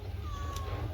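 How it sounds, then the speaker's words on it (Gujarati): A cat gives a single short, drawn-out meow that slides downward in pitch, close by, over a low background hum. "હજી એકવાર કહેજે મિયાઉ."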